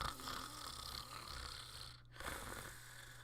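A person imitates a big snore with their voice: a faint, drawn-out nasal rasp with a short pause partway through, quiet and alone.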